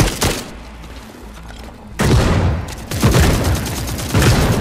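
Video game gunfire rattles in dense, loud bursts of rapid shots and booming impacts, a heavy volley up front, a brief lull, then sustained firing that returns in waves until the end.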